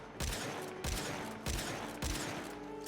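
A weapon fires in the video game Warframe, making four loud, evenly spaced bursts about half a second apart, each with a sharp attack and a ringing, sustained tail.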